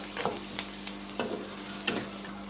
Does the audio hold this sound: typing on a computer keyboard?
no